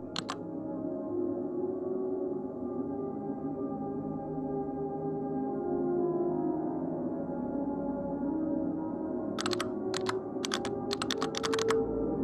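Keyboard typing in a student-made typing video game comes as a short burst of clicks at the start and then a quick cluster of keystrokes near the end, over a sustained low musical drone.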